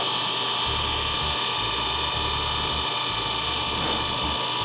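Fine-grit sanding of a wooden seam ripper handle on a lathe, a loud continuous whirring hiss with a steady motor drone and faint rhythmic scraping pulses throughout.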